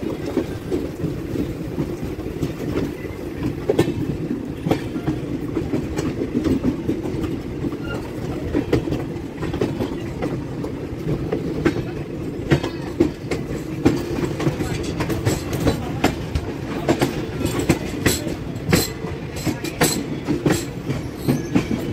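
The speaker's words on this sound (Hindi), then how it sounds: "ये जा रही है वाराणसी मैसूर एक्सप्रेस" Varanasi–Mysore Express train rolling past a crossing, steady rumble with rapid clickety-clack of wheels over rail joints, loud and close throughout with occasional sharper metallic clatters.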